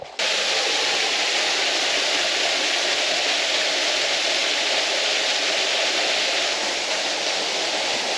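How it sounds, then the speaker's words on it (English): Waterfall on the Fiery Gizzard Trail near Yellow Pine Falls, a loud, constant rushing roar of falling water, close and unbroken. "Waterfall number"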